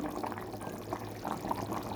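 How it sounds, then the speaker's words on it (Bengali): Soft bubbling and gurgling of a fish curry with cumin simmering in a pot, with small pops rising steadily at a low, close level. "তাই মাছগুলো আমি এখন দিয়ে ফুটিয়ে নেবো ভালো করে তরকারিটা"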